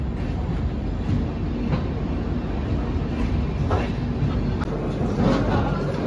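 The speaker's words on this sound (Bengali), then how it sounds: "তো আমাদের ট্রেন এখন ঢুকছে হচ্ছে মোরাদাবাদ জাংশন।" The 13151 Kolkata–Jammu Tawi Express pulls into Moradabad Junction with a continuous low rumble of rolling wagons and occasional faint wheel clicks, steady and close throughout.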